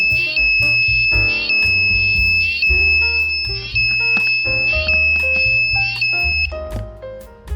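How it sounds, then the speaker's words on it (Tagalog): Siren tone from a ZL66T melody IC module runs continuously, with a high electronic whine over a repeating low melodic pattern. It stays loud and steady for several seconds, with no voices. "Siren module."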